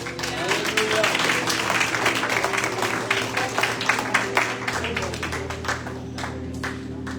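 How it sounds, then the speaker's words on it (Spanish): A church congregation claps together in steady, dense applause that fills the whole stretch at an even loudness. "Denle un aplauso al Señor."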